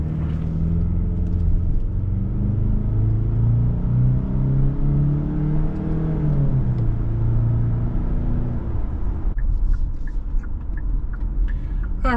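A 2025 Kia Sportage XPRO with a 2.5-litre inline-four pulls away, its engine note rising in a steady, loud drone that climbs in pitch, then settles back as the SUV moves off.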